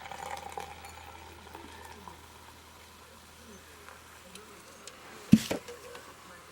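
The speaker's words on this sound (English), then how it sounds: "So let's pour it right in." Mike's Harder Margarita is poured from a can into a glass, a soft steady fizz and crackle of bubbles with a brief louder splash near the end; a voice talks faintly over it.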